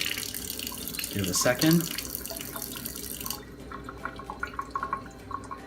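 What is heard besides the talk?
Kangen water machine running water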